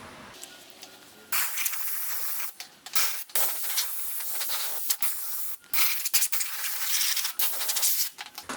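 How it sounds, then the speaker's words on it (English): Compressed air hisses in repeated bursts while blowing dust out of a Corsair 600T Graphite White PC case, loud sprays broken by brief pauses. "I've got my compressed air ready. Let's get the dust out of this thing."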